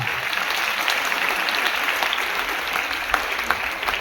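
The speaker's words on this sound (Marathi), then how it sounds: "एकदा टाळ्या वाजवा." Audience at a school gathering bursting into steady, dense applause, many hands clapping continuously and evenly throughout.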